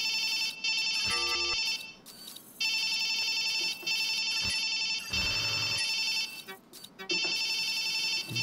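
A ringing telephone in Watch Dogs 2 trills in repeated electronic bursts with brief pauses, loud and close, with some other game sounds breaking in between rings.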